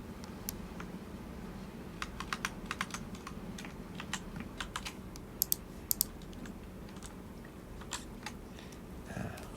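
Someone types code on a computer keyboard, a close, irregular run of crisp key clicks in quick bursts over a faint steady hum, with a few louder taps.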